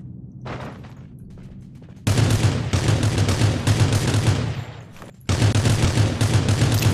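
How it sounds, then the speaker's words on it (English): Gunfire in a video game crackles in dense bursts, a sparse distant shot first, then two long loud volleys of rapid shots separated by a brief pause. "More gunshots actually, like, over there towards Bear Lake."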